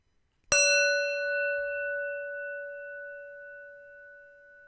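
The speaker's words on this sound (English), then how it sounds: "Think about that as we listen to the sound of the bell." A single bell is struck once, then its clear metallic tone rings out and slowly fades over several seconds, with nothing else around it.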